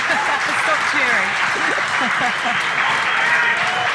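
Crowd at a pro billiards match between Corey Deuel and Fedor Gorst cheering and applauding an impressive shot, a steady dense wash of clapping and whoops with voices calling out throughout.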